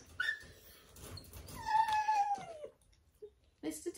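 A puppy whimpering in a training session: a few thin, drawn-out whines and short squeaks, close and fairly soft, separated by brief pauses.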